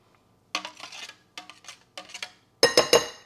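Butter, grated for scones, is scraped loose from a grater, followed by three sharp, close metallic knocks of the grater against a bowl.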